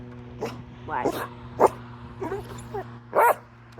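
On a family homestead, a dog lets out several short, sharp barks and yips in separate bursts, close by, mixed with a person's voice.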